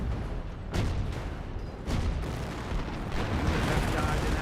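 A 25-pounder artillery barrage in Company of Heroes booms in several heavy impacts spread across a dense, rumbling battle soundscape, fairly loud with no voices over it.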